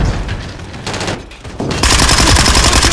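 Rapid automatic gunfire and bursts in the video game Call of Duty: Modern Warfare 3 during an objective match, loud and dense, swelling into near-constant firing in the second half.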